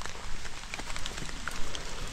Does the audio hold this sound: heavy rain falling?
yes